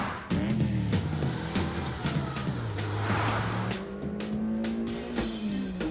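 A cartoon car revs and drives off, engine pitch rising and shifting through a few surges with a tire-squeal edge, loud and close throughout.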